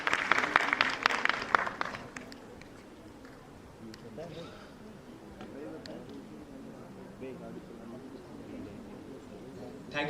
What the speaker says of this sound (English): Feel free to clap and appreciate the commendable work of our